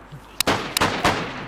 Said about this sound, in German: Oh, der schießt.